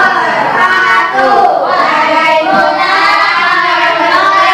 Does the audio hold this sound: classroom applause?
yes